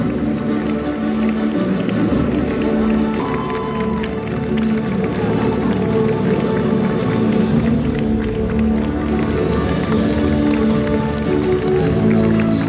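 An audience applauding in sustained, dense clapping that fills the whole span, loud and continuous with crowd murmur mixed in.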